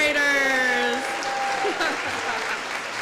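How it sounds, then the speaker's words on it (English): Audience applause and cheering for kazoo paraders at a Boys and Girls Club donor appreciation luncheon: dense, steady clapping with rising and falling voice tones mixed in, loud and close throughout. "Can we get a cheer for our kazoo paraders?"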